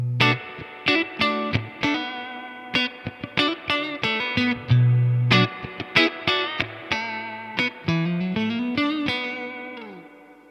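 Electric guitar played through the neck pickup of a Crafter Crema S Strat-style guitar, drenched in heavy reverb: plucked notes and chords ring out with long washy tails and distorted, chorus-like shimmer, loud and alone.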